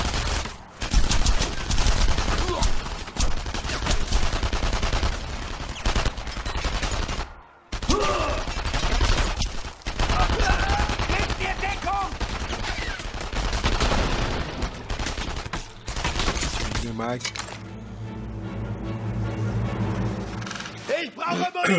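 Dense, sustained gunfire in the shooter game Enemy Front fills most of the stretch, loud bursts and volleys with a brief gap partway through, while a voice talks over it and the firing eases toward the end.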